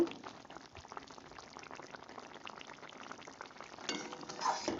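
Spinach and radish simmer in a pot, giving a steady bubbling and soft sizzle at close range, with a brief stir or splash near the end.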